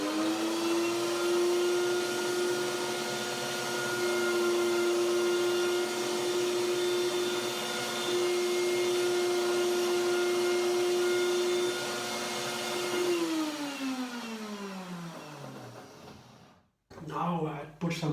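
A blender whirs steadily as it purées dates with walnuts and cashews for pralinés, a loud continuous motor drone that slows and winds down near the end before stopping, followed by a brief clatter.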